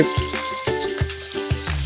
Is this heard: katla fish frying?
yes